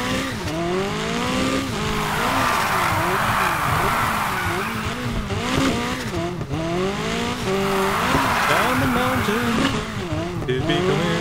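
A Nissan 180SX drifting at night in NFS Heat, its engine droning and rising in pitch with long tire squeals through the turns, loud and continuous under game sounds.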